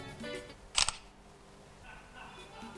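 A camera shutter clicks twice in quick succession, short sharp snaps over a quiet room background with faint murmuring.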